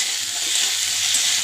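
Steady, hissing sizzle of tomato, green chillies and ginger paste frying in a pan, an even crackling texture with no talk.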